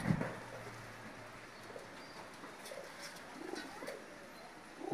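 Pigeons in a home loft of about twenty nesting boxes coo softly, low and intermittent, beneath a steady background hiss, with a few faint chirps scattered across the stretch.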